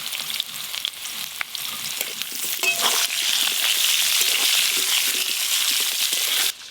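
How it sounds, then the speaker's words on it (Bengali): Long-cut potato strips, washed and coated with salt and turmeric, fry in hot oil with a dense, steady sizzle that swells louder midway and holds until it cuts off near the end. "আলুগুলোও ভেজে নেব।"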